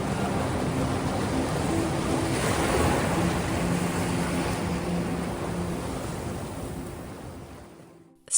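Surf washes steadily onto an East Coast beach in a cove ringed by steep cliffs, a broad continuous roar of breaking waves with some wind noise, loud and unbroken until it cuts off at the end.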